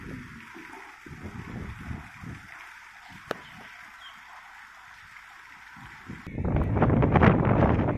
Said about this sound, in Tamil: போர் தண்ணி விழுந்துட்டு இருக்கிற மாதிரி விழுந்துட்டு இருக்குது பாருங்க